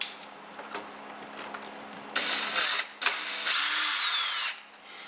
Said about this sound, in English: I'm going to use a power drill.